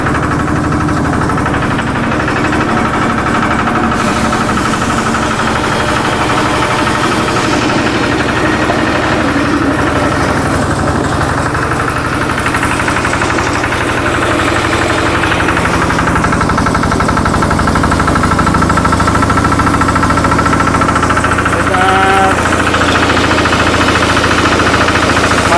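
A Kubota diesel engine runs steadily in a rhythmic, knocking idle, loud and continuous throughout with no break.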